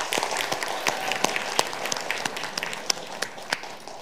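An audience claps at a mock budget parliament debate, a steady patter of hands with sharper individual claps standing out, moderately loud and continuous with no talking.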